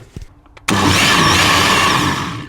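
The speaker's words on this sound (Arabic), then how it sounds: "وهلا فورا بنشيلها على الخلاط" A food blender starts abruptly after a few quiet clicks and then runs loud and steady, whirring as it purées soup ingredients, with no talking over it.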